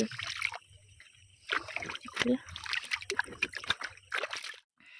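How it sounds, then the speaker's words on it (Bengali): Cut banana leaves washed in a village pond, with irregular splashes, sloshing and dripping water close by, broken by brief pauses, while voices talk quietly over it. "পাতাটা এবার ধুয়ে নেব পুকুর থেকে প্রথমে ধুয়ে নেব তারপর কলে ধোবো"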